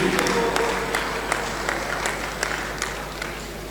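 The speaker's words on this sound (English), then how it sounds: "Another round of applause" A crowd applauds steadily at a moderate distance during a football tournament draw ceremony, a dense wash of clapping with a few sharper claps standing out.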